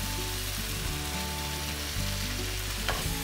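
Garlic fries in a hot pan as tomato-based pasta sauce is being made, giving a loud, steady sizzle with a few stirring scrapes and no talking.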